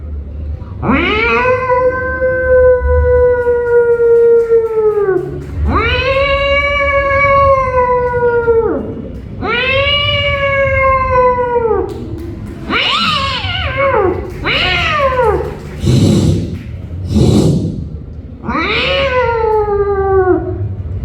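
A human voice imitates two cats fighting, with long drawn-out yowls followed by sharp, rapid screeching cries, loud and close.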